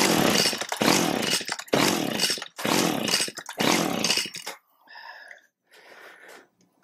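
A Stihl string trimmer with a no-start fault and choke on is cranked with five long, raspy recoil pulls in steady rhythm, followed by quieter rattling without the engine catching.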